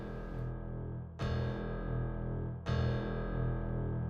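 Keyboard note pitched like the lowest open string of a standard-tuned guitar: three sustained low tones, each restruck with a bright attack about every 1.5 seconds, steady and fairly loud, with no talking.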